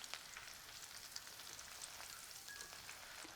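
Ginger and garlic fry in hot oil in a kadai, making a soft, continuous crackling sizzle with faint pops, quiet and steady throughout with no voices.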